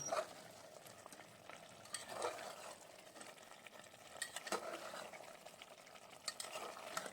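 Potatoes and mutton sautéed in a pan for a mutton curry, a steady close stirring scrape with a soft sizzle underneath and occasional sharper utensil knocks, no voices.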